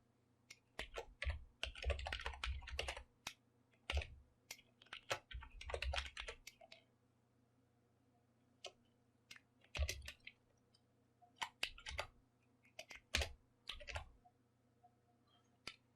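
Computer keyboard typing out a formula for an average grade in a database query lesson: close, crisp keystrokes in quick bursts separated by short pauses, with no voice.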